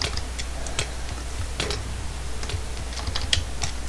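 Keys clacking on a computer keyboard during Minecraft Hive gameplay, with sparse, irregular clicks over a constant hiss from a poor microphone and no speech.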